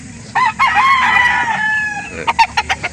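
Up close at a poultry market in Calauan, Laguna, a rooster lets out a loud drawn-out crow, followed by rapid sharp clucks from chickens and a hen.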